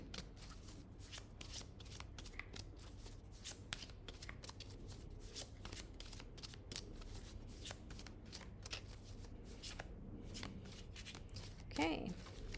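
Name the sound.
shuffling and pulling tarot cards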